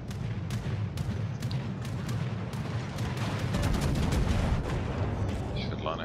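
Warship guns firing in a naval video game, with repeated booming shots and thuds in an irregular series over a rumbling battle din, while someone talks throughout.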